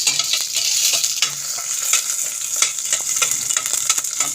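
Onions hit hot oil in a frying pan for a Filipino mung bean stew, giving a steady close sizzle with repeated scraping of a utensil stirring through the pan.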